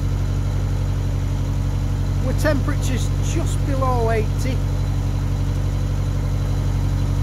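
Narrowboat engine running steadily at idle, a loud constant low diesel drone with a regular throb, close by, while someone talks over it.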